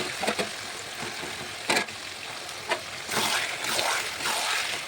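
Chicken pieces dropped into a hot pan for a thick rice-side gravy curry, a close crackling sizzle broken by a few sharp clatters and splashes, then rising steady frying with stirring, no talking.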